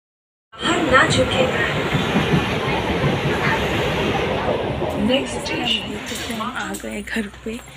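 A train rumbling and clattering at a station on the way to Mumbai, a loud, steady, close rush of wheels and cars with people talking over it.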